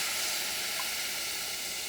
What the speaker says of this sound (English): You have to be careful because this is going to create steam.